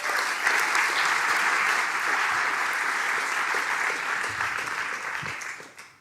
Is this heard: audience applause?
yes